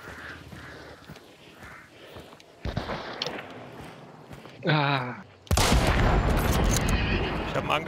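Gunfire in the video game Hunt: Showdown, several sharp shots and a dense loud burst near the end, heard over someone talking and faint ambient game sounds.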